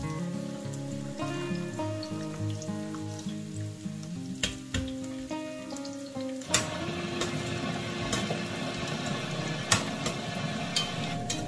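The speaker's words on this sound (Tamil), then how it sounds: "இப்போது அந்த நெய்யிலேயே நம்ம கட் பண்ணி எடுத்து வச்சுருந்த வெங்காயத்தை ஆட் பண்ணி நல்லா வதக்கிக்கலாம்" Onions sizzling as they sauté in ghee for ghee rice, a steady close frying crackle that starts with music before it and grows broader and denser partway through, with occasional stirring clinks.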